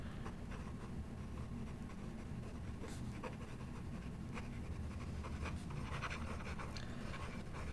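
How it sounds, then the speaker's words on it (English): A Danitrio Densho fountain pen nib writing in reverse on paper, giving a faint continuous scratchy rasp at close range under a low background hum. "We can try reverse writing."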